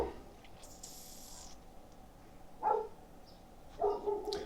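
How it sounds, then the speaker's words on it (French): A dog barks a couple of times indoors, short mid-pitched bursts standing out over a steady low room hum, with quieter gaps between them. "Qu'est-ce que c'est bruyant, chien?"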